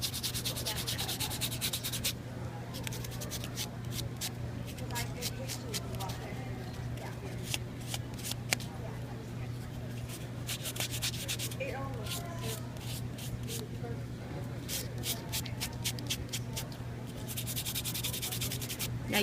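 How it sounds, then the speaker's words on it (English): A metal craft piece is rubbed with an emery board in quick, light scratchy strokes that come in bursts with short pauses, quiet and close against a steady background hum. "I'm going to go ahead and give a sand to the entire piece"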